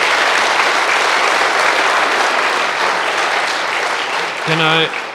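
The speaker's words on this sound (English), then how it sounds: "people want to applaud, of course. Feel free." Sustained audience applause at a live chess tournament commentary, loud and dense throughout, with a brief voice near the end as the clapping fades.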